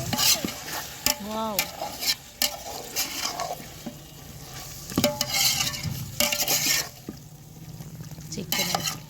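Chicken mixed with curd is stirred in a pot for pongal biryani, producing repeated scraping and clattering stirs over a soft sizzle, with a brief exclamation from a voice.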